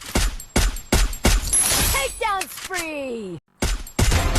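Gunfire from the Free Fire shooter game rattles out in rapid close bursts with sweeping game effects and a brief dropout, while someone talks over the shots.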